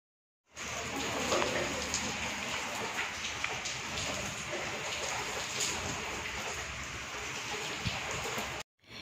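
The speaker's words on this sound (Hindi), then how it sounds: "बस फिर पीछे से बारिश भी स्टार्ट ही हो गई।" Steady rain falls outdoors in a dense, continuous hiss with scattered patters and drips, fairly close and even throughout, with no talk over it.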